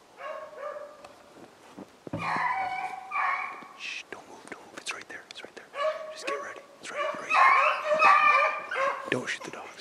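Hunting dogs on a snowshoe hare hunt bark and whimper in short yips and whines, close and fairly loud, mixed with quiet voices talking and whispering throughout.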